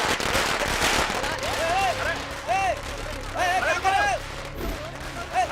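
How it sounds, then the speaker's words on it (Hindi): Firecrackers bursting at a rowdy celebration in a Hindi-dubbed South Indian film scene, sharp crackling pops scattered among whistling rockets and shouting voices, with music and crowd noise underneath. "पटाखे फोड़ो।"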